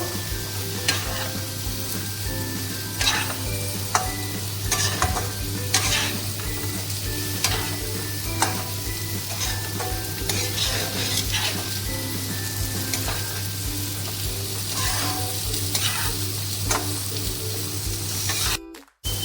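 Lote fish (Bombay duck) jhuri frying in a pan, a continuous loud sizzle with frequent stirring clatters of a spatula against metal and a low steady hum underneath, ending abruptly.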